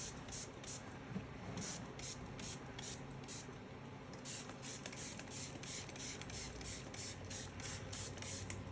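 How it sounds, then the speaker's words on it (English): A Flairosol trigger sprayer puts out an ultra-fine fogging mist indoors. It gives a quiet, continuous hiss broken by rapid, rhythmic high ticks. "you like pump them twice and then they spray for 30 seconds, an ultra fine fogging mist"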